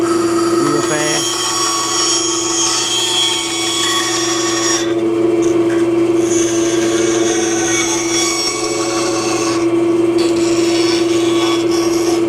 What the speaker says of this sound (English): we'll be here at the bandsaw. Cut out this pattern